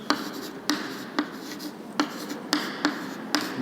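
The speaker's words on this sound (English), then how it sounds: "I will write it here." Chalk or marker scratching out an equation on a board during an open channel flow lecture, a series of short sharp strokes and taps repeating roughly every half second, close and fairly quiet.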